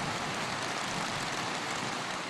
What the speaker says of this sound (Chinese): 港岛西区成个朝早都横风横雨